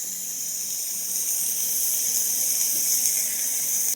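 Ground beef, two pounds of it, fries steadily in a pan with a continuous broadband sizzle and hiss, close and even throughout, with a low faint hum beneath and no talking.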